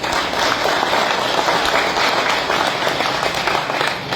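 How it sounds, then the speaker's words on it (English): Sustained audience applause at a high school graduation ceremony, a loud, dense wash of many hands clapping together without letup, filling the hall. "Let us give them a resounding round of applause."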